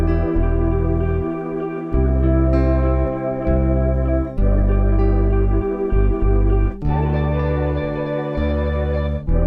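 A pitched-up guitar sample chop loops together with a bass layer and another musical part, forming a dense, continuous beat with repeated phrases and short gaps in the low end.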